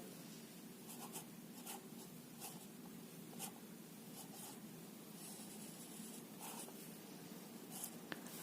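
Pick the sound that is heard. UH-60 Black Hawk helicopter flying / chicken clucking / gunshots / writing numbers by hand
writing numbers by hand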